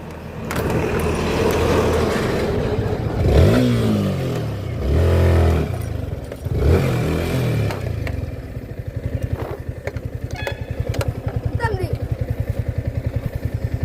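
A motorcycle engine drones while riding, its pitch rising and falling with gear changes, then settles into a throbbing idle-like chug near the end; voices talk over it at times.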